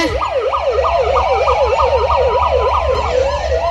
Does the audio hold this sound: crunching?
no